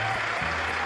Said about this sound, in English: at which Congress clapped like seals again for him